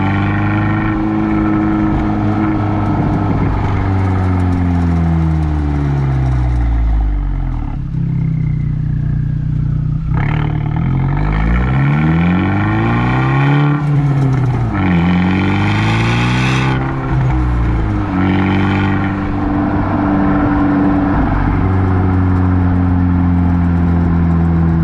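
An Abarth 124 Spider's engine and exhaust rumble loudly up close, revs rising and falling in repeated sweeps over about 25 seconds, with a throaty, continuous drone and no voices.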